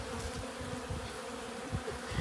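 Honeybees swarm and buzz around a dog near a hive, a continuous droning hum with low thumps and rustles underneath, close and steady, with no speech.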